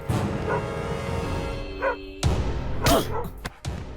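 Dogs at a guarded compound bark in several sharp, loud bursts mixed with yips and whimpers, spread irregularly over a few seconds amid background noise.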